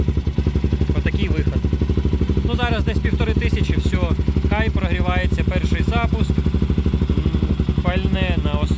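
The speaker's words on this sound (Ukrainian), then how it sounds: "голосно, бо це ж стандартний ендуро мотоцикл" A 2025 Kovi Advance 250 enduro motorcycle idles loudly and close with a fast, steady thumping pulse, while someone talks over it at intervals.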